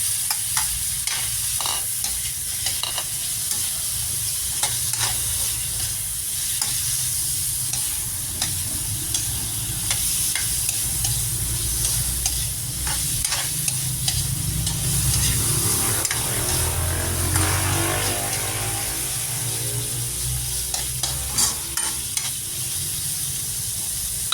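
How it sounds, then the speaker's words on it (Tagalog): Squash is sautéed and stirred in a pan, with a steady sizzle of frying under repeated scraping and clinking of the utensil, close and with no talk. "igigisa ko na itong kalabasa para lang may lasa yung kalabasa."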